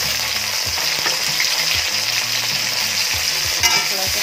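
Onion, garlic, green chili, dried red chili and cumin sizzle loudly in hot oil as a tempering, a dense steady crackle with occasional stirring scrapes and no talking.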